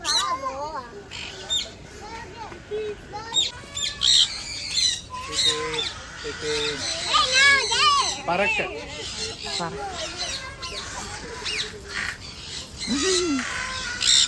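Many birds squawk and chatter together in a busy, continuous chorus at KL Bird Park in Malaysia, with voices talking intermittently underneath.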